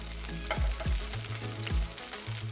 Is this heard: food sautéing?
yes